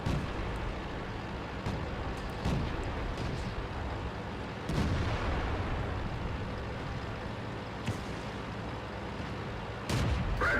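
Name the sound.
KV-1 tank firing shots on the move in a video game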